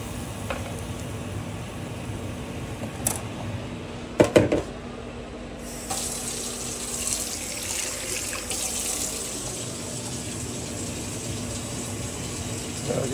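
Water is poured into a cooking pot of brown stew chicken, setting off a rushing splash and sizzle after a few clinks, then a sustained hiss and bubbling as it settles, close and moderately loud with no talking.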